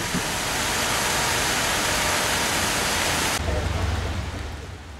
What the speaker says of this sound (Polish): pogoda nie najlepsza do zwiedzania, ale i w tym deszczu Moskwa ma swój urok